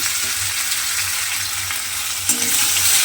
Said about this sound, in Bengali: সেই পেস্টটা কিন্তু আমি তেলের মধ্যে দিয়ে দিলাম।